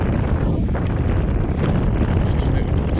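Steady wind buffets the microphone on the shore of Derwent Reservoir, a continuous loud low roar with gusty rumble filling the whole three seconds, no voice heard.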